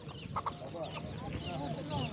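Roosters and hens cluck and crow faintly at a crowded poultry market in Sungurlu, Çorum, with overlapping bird calls mixed into a busy background murmur of voices.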